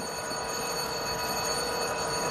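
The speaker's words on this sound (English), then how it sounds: "You hear how long that bell is ringing?" A locomotive bell rings continuously during the engine's startup sequence, a steady, moderately distant tone that goes on without a break and without any voices.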